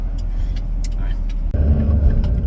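A car driving along a road, its engine and tire rumble a steady low drone up close, growing heavier partway through.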